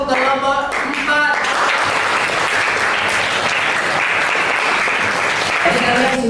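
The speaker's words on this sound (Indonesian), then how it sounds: "kita beri apresiasi atau tepuk tangan untuk kelompok 4" Classroom applause for a student group after their presentation, a dense steady clatter of many hands filling the room, with voices heard briefly at the start and again near the end.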